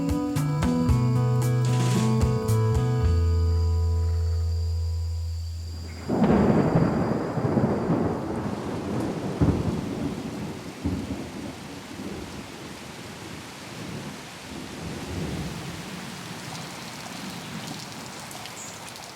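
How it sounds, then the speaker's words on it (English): Loud thunder crashes over a heavy tropical downpour, the rain roaring steadily and close after an abrupt onset, with the rumble fading into a dense, continuous hiss of rain. "Sudden, thundery downpours are pretty normal in this part of the world."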